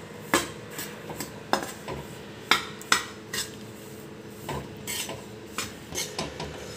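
Spoon scraping and clinking against a pan while an already roasted, ground sweet mixture is stirred at home, a dozen or so sharp metallic taps and scrapes in an irregular rhythm, close and fairly quiet, with no talking.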